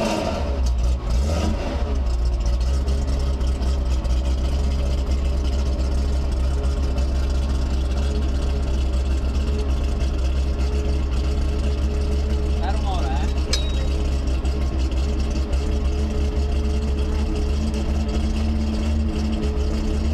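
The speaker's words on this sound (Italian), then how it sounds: "E poi si schiaccia l'accensione che è a bottone" A Nissan Navara Rally Raid T1 pickup truck engine is started with a push button, turns over and then idles steadily with a deep, loud rumble that continues unchanged throughout.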